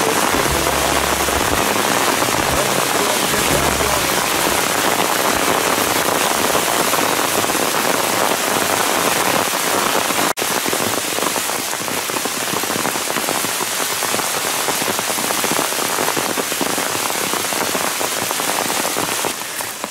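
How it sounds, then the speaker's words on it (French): Heavy rain falls on a bivouac in the Cévennes, Aigoual massif, a dense, close, unbroken patter drumming on surfaces for the whole stretch. "on espère toujours que ce sera juste passager, ce sera une petite pluie"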